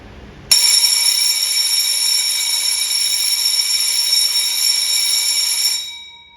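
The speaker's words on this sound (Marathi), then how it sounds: "तर मी तुम्हाला इथे 4 सेकंद आणि 6 सेकंदसाठी बेल वाजवून दाखवते" An electric bell, triggered by the manual button on a timer, rings continuously and loudly with a bright metallic buzz for about five seconds, then stops and fades out.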